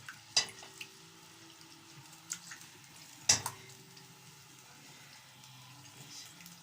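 Tomato sauce for kofta frying in oil makes a faint, steady sizzle, with a couple of sharp clinks of a spoon against the pan and quiet stirring. No one speaks.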